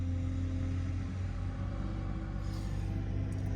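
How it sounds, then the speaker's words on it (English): A garbage truck's engine rumbles steadily close by as it passes, a deep continuous drone with slight revving, no talking. "Trash truck."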